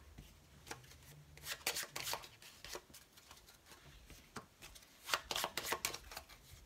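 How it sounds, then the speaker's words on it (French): Piles of playing cards being shuffled together, soft close riffling and rustling in quick bursts, fairly quiet with no talking. "Maintenant ces tas on va pouvoir venir aussi les remélanger un coup."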